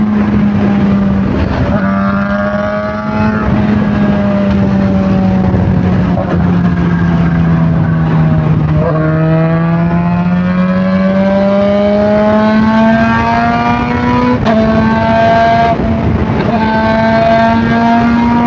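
Supercharged Kawasaki ZH2 motorcycle engine revving and accelerating through the gears, a loud continuous roar with rising pitch sweeps and brief dips at each shift, close up over rushing wind.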